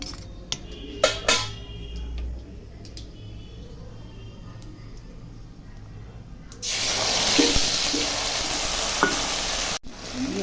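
Ground spice paste hits hot oil for a Bengali potoler dhoka, first with a few clinks of a utensil, then a sudden loud, steady sizzle that carries on close by for several seconds.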